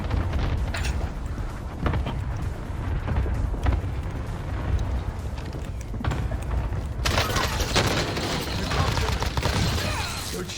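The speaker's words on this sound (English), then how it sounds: "Cluster strike away." Cluster strike explosions in Call of Duty Warzone on PC, a long run of loud rumbling booms and crackling blasts rolling on continuously, growing harsher and brighter toward the end.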